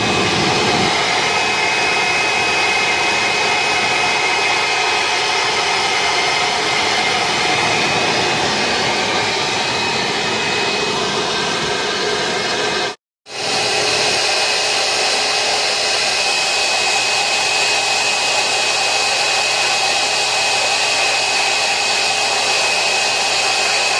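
A hair dryer drying a Shih Tzu after a bath blows with a loud, steady roar and briefly cuts out, then starts again and runs on.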